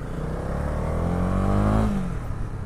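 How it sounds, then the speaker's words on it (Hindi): A Honda CB300R motorcycle's exhaust revving up close, a steady loud engine note rising in pitch and then dropping away as the throttle is released. "एग्जॉस्ट की भी साउंड यार बहुत ही प्यारी आती है"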